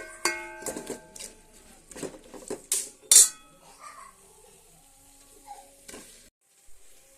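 Chicken gongura curry being stirred in a pan with spice paste, giving scattered clinks and scrapes of a spoon against metal with faint sizzling between them, close by with no talk.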